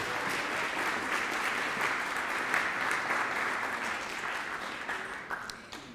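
A room full of people claps after a cake is sold at a fundraiser auction, sustained even applause that gradually thins and fades toward the end.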